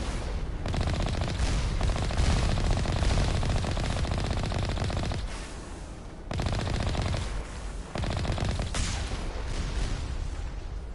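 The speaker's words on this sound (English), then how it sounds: "Shooting, shooting, shooting." Gunfire in the Mass Effect 1 video game: sustained rapid automatic bursts, loud and close, broken by two short pauses before firing resumes, with no talk.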